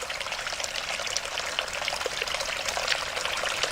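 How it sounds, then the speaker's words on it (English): Water running out of the ground near an old abandoned site, a steady continuous trickling and pouring stream heard up close with no voices over it. "I heard some running water."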